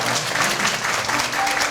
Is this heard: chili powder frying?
no